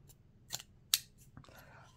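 A Rosecraft Blades folding knife being opened, giving a few sharp metallic clicks and snaps, close and quiet, with a soft voice nearby.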